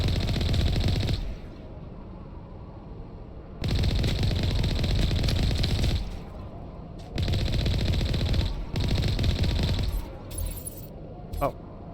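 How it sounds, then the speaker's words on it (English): Repeated long bursts of automatic gunfire in the Mass Effect video game, loud and close, broken by short pauses, with a voice speaking faintly between and under the shots. "What's shooting?"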